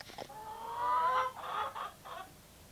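Farmyard hens cluck crossly in a few short, nasal bursts close by, the squawks coming in quick uneven groups with brief pauses between, in an animated farm scene.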